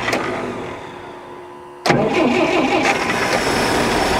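A 1962 Dodge D300 truck, idle for 34 years, cranks briefly, then its engine fires and catches abruptly before settling into a loud, steady running idle close by.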